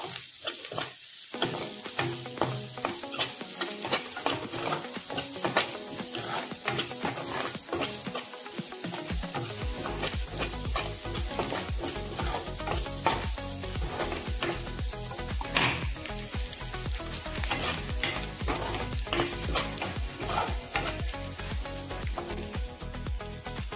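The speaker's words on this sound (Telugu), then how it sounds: "ఆ పేస్ట్ని ఇప్పుడు ఉల్లిపాయలు వేగిపోయినాయి కదా, దీంట్లో వేసుకోవాలి." Onions fry in a pan with a constant close, loud sizzle and crackle, broken by stirring scrapes and clinks of a utensil, alone throughout with no voices.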